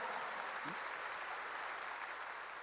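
Congregation in a church sermon gives a steady round of applause, an even wash of many hands clapping at once, soft and a little distant, holding constant throughout.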